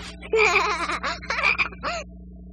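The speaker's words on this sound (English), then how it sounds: "I think I hear a frog. A frog!" A cartoon-style frog croaks in a quick run of warbling, throaty calls, loud and close, over a faint steady background hum, then stops.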